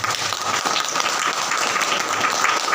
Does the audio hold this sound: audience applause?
yes